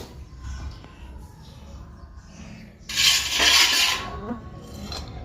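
Coconut being scraped on a kuruni grater in a home kitchen, a burst of rough, bright rasping for about a second, close and fairly loud over quiet background clatter.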